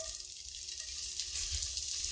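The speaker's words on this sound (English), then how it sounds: "So we've got some butter melting in 2 pretty much identical skillets" Steady, soft sizzling of celery frying in butter in a skillet, a continuous crackling hiss with light stirring noises, no voices.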